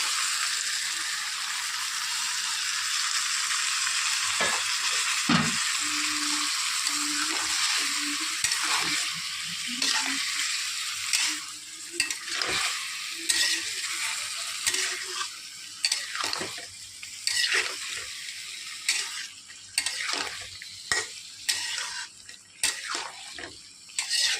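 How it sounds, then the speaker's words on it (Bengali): Spice paste with turmeric, salt and a splash of water sautéing in a pan, a steady sizzle broken by scraping stirs and soft knocks of a spoon, close and continuous, while cooking shrimp with vegetables. "সামান্য জল দিয়ে আগে কষিয়ে নেবো মশলাটা"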